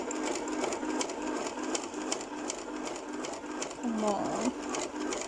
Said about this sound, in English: I can't believe I am arguing with a sewing machine